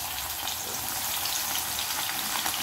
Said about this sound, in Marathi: मस्त मी तुम्हाला अजून एकदा तळून दाखवते.